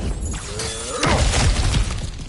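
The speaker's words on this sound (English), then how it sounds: "Ah, back to smashing through things for fun and profit." Objects shattering and breaking apart as they are smashed in God of War Ragnarök on PS5, a loud crash with scattering debris that swells mid-way and trails off.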